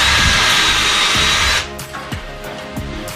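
Power drill boring up through a ceiling into a pine beam, a loud steady whine for about a second and a half, then the motor cuts and a few short knocks and handling clatters follow.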